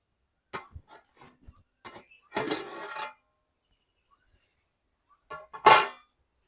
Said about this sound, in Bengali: এবার ঢাকনা খুলে দেখি বিরিয়ানি কত দূর হলো।